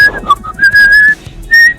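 A short whistled tune sounds as a comedic sound effect, a few clear, sustained notes broken by brief pauses, loud and close with nothing else behind it.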